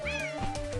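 A cat meows clearly in an endless runner mobile game, a single drawn-out, wavering cry lasting under a second, loud and close over the game's steady background music.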